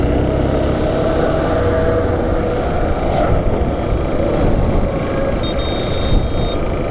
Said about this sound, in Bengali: ওই জায়গায় এখন আমি বাইক চালাচ্ছি।